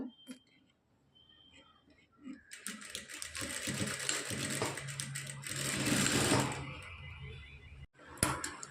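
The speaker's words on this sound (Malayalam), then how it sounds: "ഇങ്ങനെ ഒന്നെടുത്ത് സ്റ്റിച്ച് ചെയ്ത് കൊടുക്കുക ഈ തയ്യൽ തുമ്പ് ഇല്ലാത്ത ഭാഗത്ത് വേണം സ്റ്റിച്ച് ചെയ്തെടുക്കാനായിട്ട്" Sewing machine stitching two kinds of fabric for a Lakhnavi-style design, a steady buzzing run of stitches lasting several seconds at moderate loudness, with a voice speaking softly around it.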